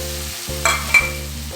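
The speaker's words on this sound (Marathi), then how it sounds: "हे पण व्यवस्थित सगळं परतून घ्यायचं आहे।" Fried bitter gourd pieces and jaggery are stir-fried together, giving a soft sizzle and two quick, close spatula scrapes against the pan.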